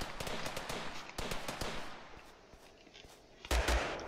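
Rapid bursts of gunfire in the battle royale game Totally Accurate Battlegrounds, with sharp cracks spread through the clip and a louder cluster near the end, heard without talk.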